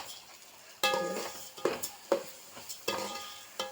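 Rice frying in hot coconut oil and ghee, stirred with a utensil: a soft steady sizzle broken by several sharp scraping and clinking strokes against the pan, close and fairly quiet.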